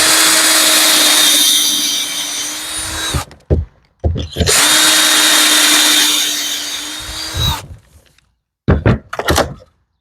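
Power drill boring pocket holes in wood, two long loud whirring runs of about three seconds each, each followed by short clunks and knocks of the tool and workpiece, with no talking.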